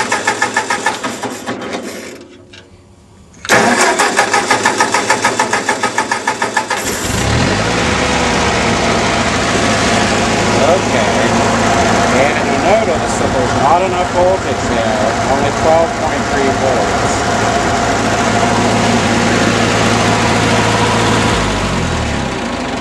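A 1940 Ford 9N tractor engine cranks in a rapid chugging burst, stalls briefly, cranks again, then catches and settles into a steady, loud, close idle that runs to the end.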